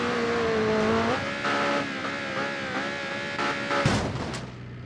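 A McLaren Speedtail in a racing video game revs hard and roars as it launches over a ravine, the engine pitch climbing and shifting before a crunching landing thud near the end.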